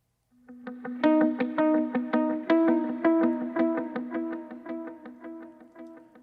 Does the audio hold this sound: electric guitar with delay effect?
yes